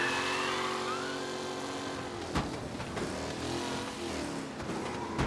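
A car in Mafia: Definitive Edition, set in the 1930s, drives down an open road, its engine droning steadily and loud. A couple of sharp knocks or bumps break through partway, and no one speaks over it.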